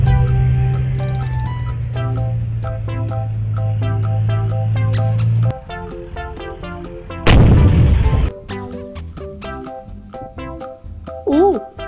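Toy steel tank firing electronic gunfire and cannon sound effects, a long steady buzzing blast followed by a sharp loud burst and scattered beeping tones, with no talking.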